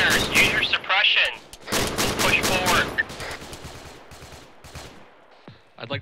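Bursts of machine gun suppressive fire in the military shooter game Arma 3, loud, rapid cracks in clusters that thin out toward the end, with voices talking over the shooting.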